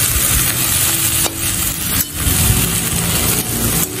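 Jute leaves frying over medium-high heat in a pan, a steady loud sizzle with scraping and tossing strokes from the stirring spatula.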